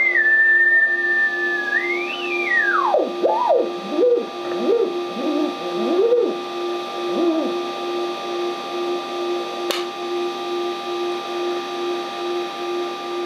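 A steady whistling tone from an AN/GRC-9 military field radio transmitter holds, then slides and warbles up and down as it is tuned to zero beat against the receiving frequency, with a constant hum underneath.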